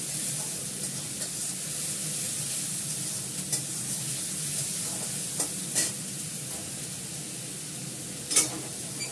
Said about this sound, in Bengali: ভালো করে লাল করে ভেজে নিই।